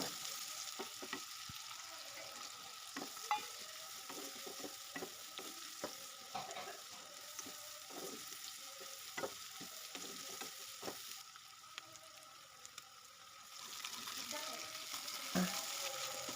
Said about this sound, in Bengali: দিয়ে পেঁয়াজটাকে কিছুক্ষণ এইভাবে ভেজে নিলাম